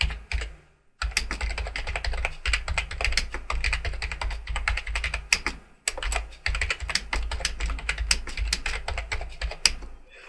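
Someone types a message on a computer keyboard in quick, uneven bursts of key clicks, with two brief pauses. The typing is close and fairly quiet, and nobody talks.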